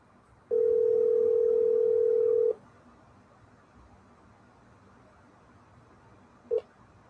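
A single long, steady electronic ringback tone on a phone call that goes unanswered sounds for about two seconds, then stops. A faint low hum follows, and a brief click comes near the end.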